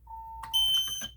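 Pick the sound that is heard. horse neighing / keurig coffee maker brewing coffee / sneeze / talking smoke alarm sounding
talking smoke alarm sounding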